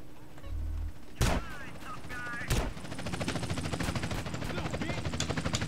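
Shotgun blasts in GTA San Andreas, two sharp loud reports about a second apart, followed by a rapid, rhythmic stream of gunfire and game noise, with people talking over the action.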